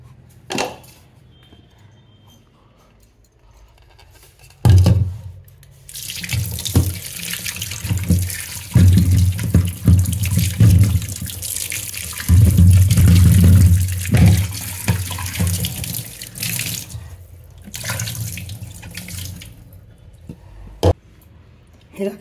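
Potatoes are washed under a running kitchen tap: after a quiet start, water gushes loudly and continuously into the sink, splashing and rising and falling as the potatoes are handled beneath the stream.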